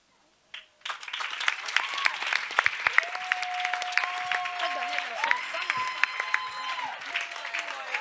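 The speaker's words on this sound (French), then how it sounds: "Et on acclame très très très fort." An audience at a Christian children's week event applauds steadily, a dense clapping that starts abruptly and carries on evenly, with tonal voices or whistles drifting over the crowd noise.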